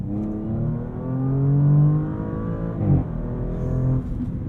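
A 2023 Audi S6's six-cylinder engine revs up through its sports exhaust with a smooth, rising tone, then drops sharply and builds again, loud and close.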